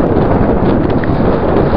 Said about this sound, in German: es ist wieder mal extrem windig.